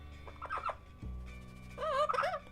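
A pet bird gives short squeaky calls indoors, a brief burst near the start and a louder warbling squeak near the end, with a low hum between and no talk.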